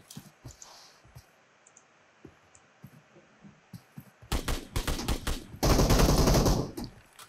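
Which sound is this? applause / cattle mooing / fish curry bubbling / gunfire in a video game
gunfire in a video game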